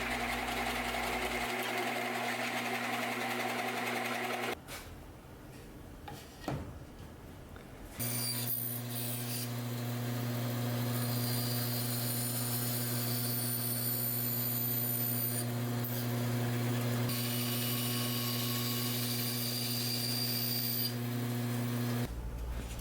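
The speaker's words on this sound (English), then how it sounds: "now I moved on to cutting some blanks out of 3/4 inch plywood" Power tool cutting blanks from 3/4 inch plywood, a loud steady motor whine that drops out briefly midway and then resumes, running continuously with no talk.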